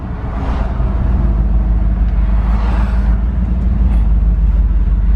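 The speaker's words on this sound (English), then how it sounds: "going down the road, we're doing about 40 mile an hour" A Dodge W150 truck fitted with a Borgeson steering shaft, driving down the road at about 40 mph: a loud, constant low engine and road rumble heard from inside the cab, with no speech.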